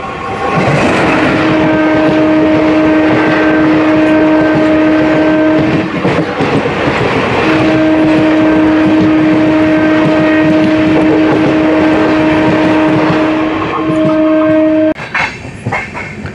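A general-coach passenger train from Narsapur toward Bhimavaram Junction runs loudly with a constant rumbling roar and rattle, while a long two-tone horn blares twice, broken by a short gap, then cuts off near the end.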